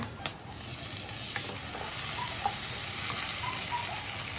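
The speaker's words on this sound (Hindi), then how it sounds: "यहाँ पे पार्वती आंटी लगाएंगी तड़का" Tadka tempering sizzling steadily in hot oil in a home kitchen, a constant close hiss with occasional small pops and crackles, no talk.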